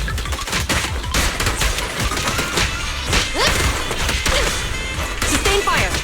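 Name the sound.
gunfire in video game Zenless Zone Zero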